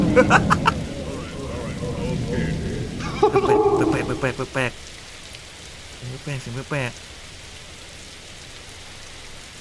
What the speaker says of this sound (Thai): เฮ้ยมีฝนตกด้วยว่ะทุกคน